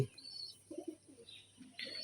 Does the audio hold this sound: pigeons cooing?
yes